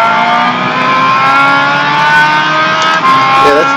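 The 2.4-litre engine of a car in Gran Turismo screams at high revs, a loud, sustained tonal whine held near the limit with a slight dip near the end, with no speech over it.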